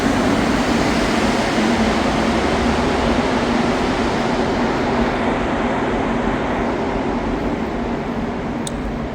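A Montreal metro train rumbling loudly and steadily, a continuous low roar with no pauses.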